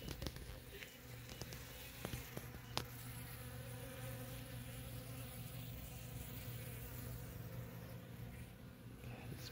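Bees hum steadily around a moonflower vine in full bloom growing from a crack in a porch, a continuous close insect buzz lasting throughout with a few brief clicks early on and no talking.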